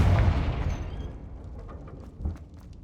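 A Confringo spell explodes in Hogwarts Legacy: one loud, deep boom that decays over a second or two, followed by a smaller thump and light crackling debris.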